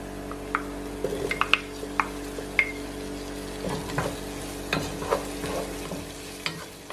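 Okra sautés in a pan for Dominican-style shrimp callaloo, giving a steady low sizzle broken by scattered utensil clicks and taps, with no talking.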